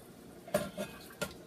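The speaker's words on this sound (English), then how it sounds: "Give it a little stir." A utensil stirs a homemade chili of hamburger crumbles in a pot, giving three quick scraping clinks against the metal, each brief and close, over a quiet background.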